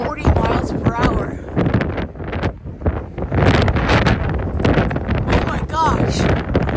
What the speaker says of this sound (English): Oh my gosh, it's so windy out.